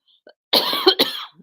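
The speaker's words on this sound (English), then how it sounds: "just have a cough" A single sharp cough up close, a short rough burst in an otherwise quiet moment.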